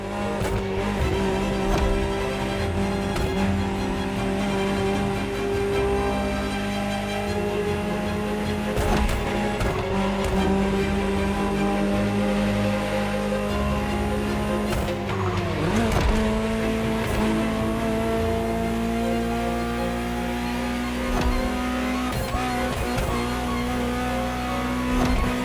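A Ferrari supercar in the racing video game The Crew Motorfest roars continuously with a loud, sustained engine drone that shifts in pitch as it revs, broken by sharp tire squeals and skids.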